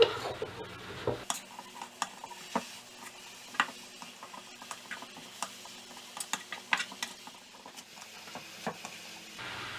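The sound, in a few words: mixing vegetable filling for spring rolls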